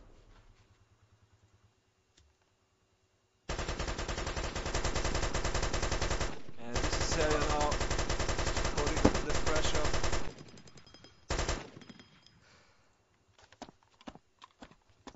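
Rapid video game gunfire pours into an enemy spawn during a competitive tournament final: a loud, dense, sustained volley of about seven seconds, then a brief second burst before near-quiet.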